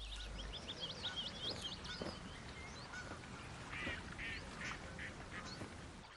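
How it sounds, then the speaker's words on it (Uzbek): Ducks and geese quack and honk across a British marsh, a chorus of repeated calls at mid distance over a steady outdoor background, with no voices. "Britaniya botqoqliklaridagi qushlar bo'g'inoyoqliklar bilan oziqlanadi."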